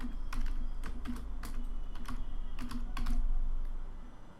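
Quick bursts of keystrokes on a computer keyboard as a class name is typed in a coding program, clustered taps with short pauses, close and fairly quiet against a faint background hum.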